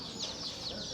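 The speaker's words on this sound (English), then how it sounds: "We got 10 chickens?" Small backyard flock of chickens, including Ameraucanas, giving soft, brief clucks and high peeps, faint and close, lasting only a moment.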